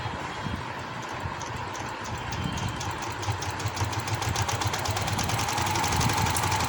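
A sewing machine stitches the side seams of palazzo trousers, running with a steady, fast mechanical chatter and rhythmic motor hum that grows slightly louder toward the end.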